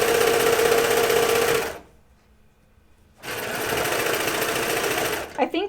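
A sewing machine stitches the inseam of Hudson pants in two steady, close bursts separated by a short pause, with a brief clatter at the end.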